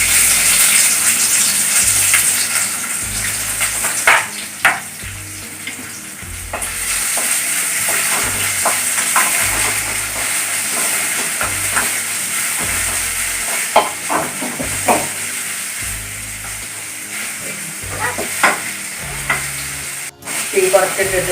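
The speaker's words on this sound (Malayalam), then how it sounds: "ഇനി നമ്മുടെ സവാള കുറച്ചിട്ട് നന്നായി ഒന്ന് ബ്രൗൺ കളർ ആവണ വരെ ഒന്ന് വറുത്തെടുക്കാം" Sliced onions fry in hot oil in a pan for tacos, a loud, continuous sizzle broken by repeated scraping and clattering as a utensil stirs them at close range.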